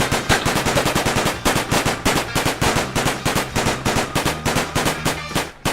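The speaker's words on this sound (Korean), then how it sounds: "우리의 이 최신형 무기 이 총으로 이거를 한번 뚫어보는 거예요" Rapid automatic gunfire from a gun in Minecraft, a steady burst of loud, evenly spaced shots that keeps going for several seconds with no pauses and no voices.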